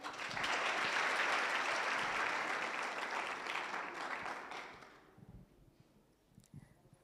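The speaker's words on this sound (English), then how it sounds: "Let's clap for Phoebe." An audience at a book launch panel discussion applauding warmly, a dense wash of clapping that holds steady for several seconds, then thins out and fades to a few scattered claps.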